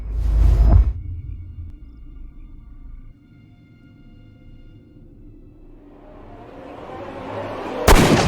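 A single heavy gunshot booms near at the start of a Sherlock Holmes video game scene, followed by a long rumbling decay, then a sharp second crack at the close.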